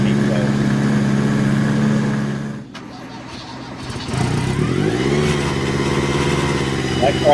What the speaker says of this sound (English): That car is turbocharged and supercharged.